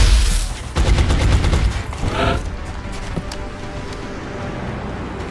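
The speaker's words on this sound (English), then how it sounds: "Incoming fire!" Rapid volleys of gunfire crack out in the XCOM Enemy Within turn-based strategy game, loud and dense for the first two seconds, then thin to scattered shots and mechanical rattles.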